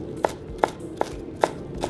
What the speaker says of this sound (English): So just chop it into small little pieces.